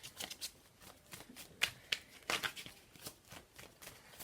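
Tarot cards shuffled by hand, a steady run of soft riffling flicks and snaps up close, quiet and without talk.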